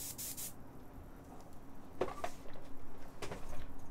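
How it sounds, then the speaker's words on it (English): An airbrush spraying paint gives a short burst of soft, airy hiss close by, followed by faint clicks and a brief second hiss in a quiet room. "continue airbrushing"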